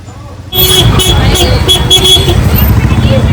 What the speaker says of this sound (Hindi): किंचू ने गाड़ी अपनी निकाल ली है